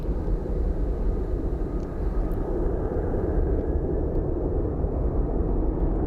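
Jet airliner departing Phoenix Sky Harbor airport, a steady, loud broadband roar that holds throughout without letup.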